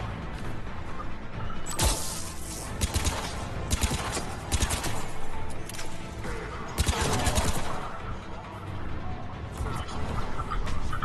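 Rapid bursts of turret gunfire in Mass Effect 3 rattle close and loud, with dense fusillades, clanks and crashes layered through the fight while a player talks over it.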